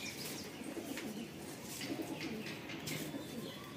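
Pigeons held in the hand give low, soft cooing calls in a steady murmur with occasional chirps and faint wing flutters, against a close, busy background.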